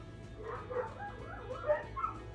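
Dogs at an animal sanctuary bark and yip faintly in the background, with several short, scattered calls over a low steady hum.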